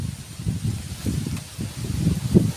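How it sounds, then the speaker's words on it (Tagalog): Strong wind gusting against the microphone on a farm in the Philippines, low rumbling buffets rising and falling with a faint rustle behind them. "Ayan, lakas po ng hangin, ang sarap po ng hangin dito."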